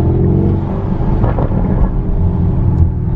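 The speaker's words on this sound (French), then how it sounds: "La sonorité de l'échappement au retour de flamme là, dès que je décélère." A Lamborghini Urus SUV exhaust rumbles loudly and continuously up close as it decelerates, a deep throbbing engine note with faint crackles of backfire under the drone.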